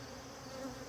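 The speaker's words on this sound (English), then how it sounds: "This colony is full of bees" Honey bees buzzing inside a crowded beehive colony, a faint, steady, close hum lasting about a second.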